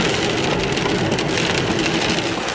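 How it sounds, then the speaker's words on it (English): Heavy rain hammers down on a vehicle driving along Englewood Drive in Woss, making a loud, dense and unbroken roar of drumming drops with the car's low rumble beneath it. "there is a lot of rain coming down"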